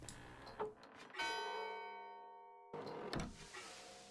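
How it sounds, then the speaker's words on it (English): A bell struck in the puzzle game TraptionBakery rings out with a clear metallic tone that sustains and slowly fades, set between short clunky mechanical game noises. "Oh, we hit a bell."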